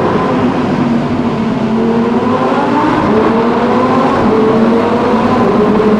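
Lamborghini Huracan LP580-2 Spyder V10 engine revving under load, a loud sustained roar with rising pitch sweeps as it pulls through gears, close and continuous with no talk.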